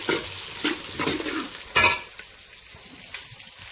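Bottle gourd pieces stir-fried in a pan for sambar, with repeated spoon scrapes and clinks over a low sizzle, close and fairly quiet, fading to a light fry toward the end.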